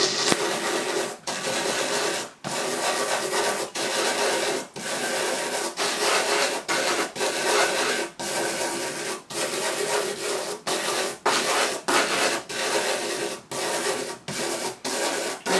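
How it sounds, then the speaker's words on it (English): Chalk is rubbed into salt to colour it, making steady gritty scraping strokes up close in a regular rhythm, each stroke separated by a short pause, with no talk. "The longer you spend rubbing the chalk into the salt, the richer the colour gets."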